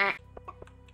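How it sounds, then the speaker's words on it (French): Game poultry noises from the Stardew Valley video game, heard inside a cave: one loud harmonic squawk, then a run of soft, rhythmic clucks over a low steady drone. "J'entends des bruits de poules alors que je suis dans une grotte."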